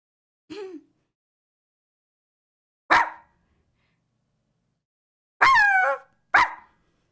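A person's voice imitating a dog barking, four short separate woofs at uneven spacing, the last two close together, loud and near against silence.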